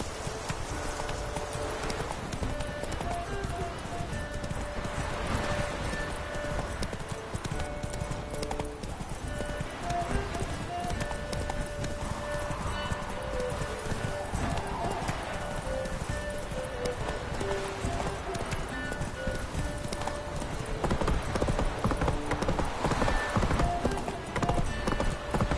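Galloping horse hooves from The Witcher 3 pound in a continuous fast rhythm, loud and close throughout, growing slightly heavier toward the end, with occasional talk over them.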